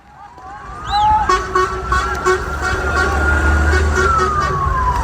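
An ambulance siren wails at the scene of an Israeli strike near a Gaza refugee camp, sweeping up and holding a high tone over a low rumble of engines and street noise.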